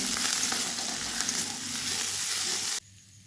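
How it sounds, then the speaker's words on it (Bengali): Spice paste frying in oil with cinnamon and cloves for a cauliflower roast, a loud continuous close sizzle with light stirring that cuts off abruptly near the end. "এখানে পেস্টটা দিয়ে দিলাম এরপর এটাকে ভালোভাবে কষিয়ে নিতে হবে"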